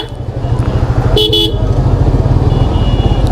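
A vehicle horn blares briefly and loudly on a road over a steady, close motorcycle-like engine rumble.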